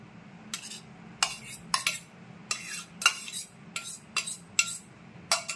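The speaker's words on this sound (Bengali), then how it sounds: "এবার আমি 150 গ্রাম খোয়া ক্ষীর দিচ্ছি।" Khoya kheer being mixed by hand into a sweet potato dough for malai pantua, a Bengali sweet, with a run of short scraping and clinking strokes at an irregular rhythm over a steady low hum, close and fairly quiet.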